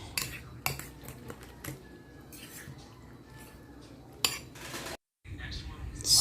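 A spatula or spoon scraping and clinking against a pan while spinach and egg scramble with tomatoes and onion is stirred, intermittent metallic knocks over a low cooking hiss, close, with a faint voice at times.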